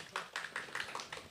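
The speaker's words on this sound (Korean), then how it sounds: "지훈 형제와 건 집사님 위해서 한번 박수 한번 쳐줄까요?" A church congregation claps faintly in a loose, fairly regular rhythm, soft distant hand claps repeating about every fifth of a second.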